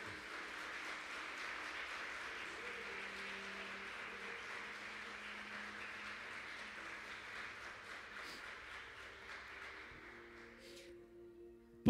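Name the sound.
church congregation applauding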